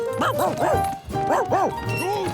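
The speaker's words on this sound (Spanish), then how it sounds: "era un perro pequeño, pero podía hacer mucho ruido" A small dog barks in two quick bursts of high, yappy barks, close and loud, with a short pause between them.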